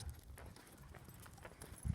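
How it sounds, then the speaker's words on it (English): Horses clip-clop along a trail-side path in a quick, uneven patter of hoofbeats, fairly faint and a little distant, heard alone without talking. "Oh, there's some horses."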